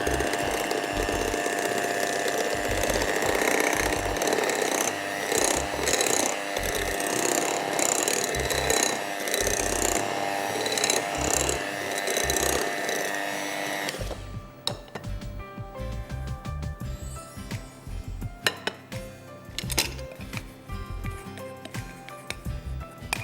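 Cake batter beaten in a bowl with butter, a loud continuous mechanical whirring and grinding that runs steadily, then changes partway through to a lighter ratcheting clatter with scattered knocks.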